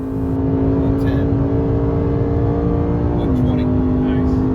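A Lexus RC F accelerating down a racetrack's back straight, its engine a loud steady droning roar with a pitch that drops at a gear change. Someone talks over it from inside the car.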